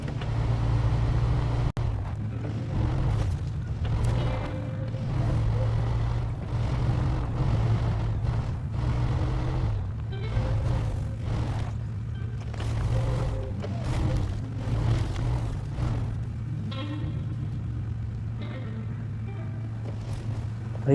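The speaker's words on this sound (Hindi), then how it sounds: "भाई गाड़ी तो फिसल के नीचे जा रही है" A truck's engine drones steadily while the vehicle slides down a rocky slope in the Snowrunner off-road driving game, a continuous low rumble that rises and falls slightly, with a voice talking intermittently over it.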